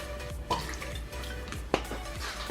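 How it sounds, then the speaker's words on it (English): Fish sauce trickles and drips into a pot of salmon soup, with a few separate splashy drops and a brief pour toward the end, close and fairly quiet. "Fish sauce, put a few swirls in there."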